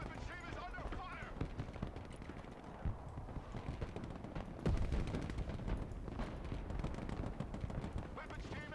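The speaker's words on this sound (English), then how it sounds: "Heavy weapons team is under fire." Gunfire in the video game Broken Arrow, a dense run of bursts and thuds under ongoing radio-style voices, moderately loud and busy throughout.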